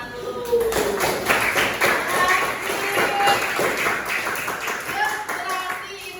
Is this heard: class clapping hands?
yes